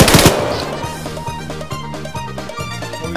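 Rapid automatic gunfire in the Arma 3 military shooter game, a sharp burst opening then a steady rattling string of shots repeating through, loud and continuous with distant echoes.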